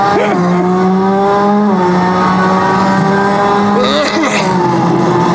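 A car in an arcade racing video game roars loudly with a steady, shifting engine tone, then its tires squeal briefly as it brakes. A voice talks over the game sound.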